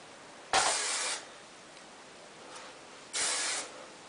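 Hairspray misted onto a section of hair, two brief close-up hissing bursts separated by a few seconds of quiet, with no voices.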